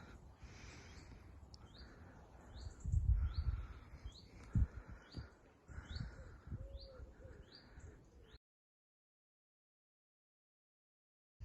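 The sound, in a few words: birds singing in the woods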